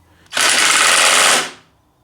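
An impact driver tries to bore into material and gives one loud, close burst of rapid hammering that lasts about a second, then stops abruptly.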